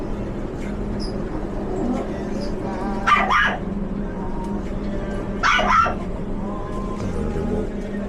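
A dog gives two short bursts of barking amid the steady crowd and traffic din of a busy pet-shop street in Mong Kok, Hong Kong, heard moderately close against the constant background bustle.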